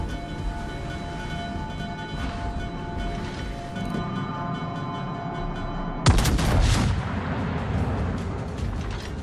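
The main guns of the battleship Ohio fire in World of Warships: rumbling salvos boom at a distance, then a sudden loud, close blast breaks out and rolls into a sustained heavy roar.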